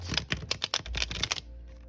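Tarot cards are bridge shuffled, a quick burst of rapid crisp riffling clicks that stops abruptly after about a second and a half, close to the microphone.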